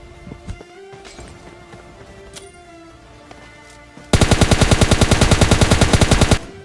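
Automatic gunfire from the mobile battle royale game PUBG Mobile Lite: after a few seconds of quieter in-game sounds, a loud, rapid burst of shots rattles on steadily for about two seconds.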